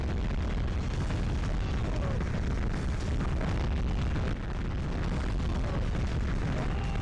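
Rumbling explosions from the PS1 tank game Mass Destruction, a dense string of booms and bursts that follow one another continuously, loud and full throughout.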